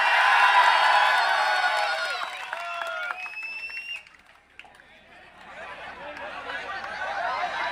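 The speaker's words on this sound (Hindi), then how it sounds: "जोरदार तालियों के दरमियान साबिक मेयर अब्दुल मालिक यूनुस ईसा साहब माइक पर।" Enthusiastic crowd applause and cheering at an outdoor political rally in Malegaon as former mayor Abdul Malik steps up to the microphone, loud clapping that thins out, dips briefly, then swells again with whistles.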